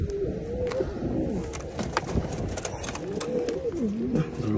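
Close cooing of a ringed pigeon held in the hands after capture, soft rolling calls repeating throughout amid faint handling rustle.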